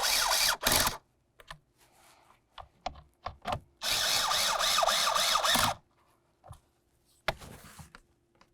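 Screws driven with a power driver into a plastic blower motor housing on a 2004-2006 Scion xB, in several short whirring bursts of varying length separated by quiet pauses and small clicks, one longer run in the middle.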